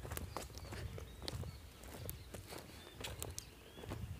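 A horse walking through a tobacco field, its hooves giving a steady, fairly faint clip-clop of irregular thuds over a low outdoor rumble, with no talking.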